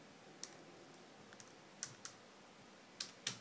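Typing a command on a computer keyboard gives a handful of crisp, quiet key clicks at uneven intervals, a few close together, over a faint steady room hiss.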